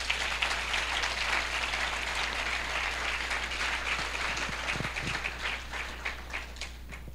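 An audience at a Christian leadership seminar applauds with dense, steady clapping that carries on throughout and slowly thins toward the end.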